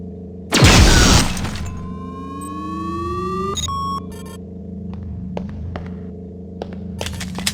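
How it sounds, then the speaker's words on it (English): A recharging station in the System Shock 2 video game charges energy-based items: a loud opening burst gives way to a rising electronic whine and sustained synthetic tones, with a few sharp clicks near the end. "Now use the recharging station nearby."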